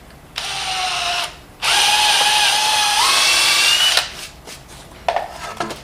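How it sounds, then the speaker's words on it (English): A power drill whirs in two close, loud bursts into a wooden lumber rack, the second longer with its pitch shifting as the bit bores in, followed by brief clattering. "Drill the bottom hole to this one."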